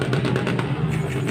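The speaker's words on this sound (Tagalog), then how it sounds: "yung mga naririnig yung mga nagbobombahan na mga motor" Big bikes rev and roar at a motor show in Asingan, Pangasinan, a steady engine drone with pulsing throttle bursts heard at a moderate distance, without talk.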